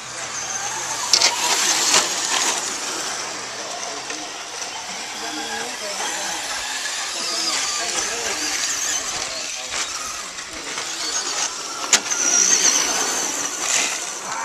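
A 2WD SC10 RC car races around the track at Moonshine RC park, its high electric whine rising and falling with the throttle, while voices chatter over it throughout.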